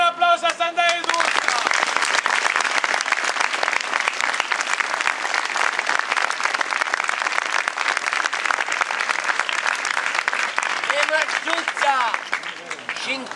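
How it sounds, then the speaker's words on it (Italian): A crowd of devotees at a religious festival applauds the saint Santa Eduzza with dense, sustained, loud clapping for about ten seconds, while voices and music sound at the start and end. "facciamo il cielo un applauso a Santa Eduzza."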